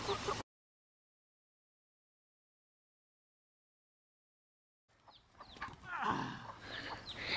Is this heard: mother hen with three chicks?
yes